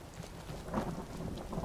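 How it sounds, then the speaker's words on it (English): Rain and rolling thunder from the weather effects in the video game Skyrim, a steady patter with a low rumble swelling midway, heard alone at moderate loudness. "Weather effects. Now you got the rain."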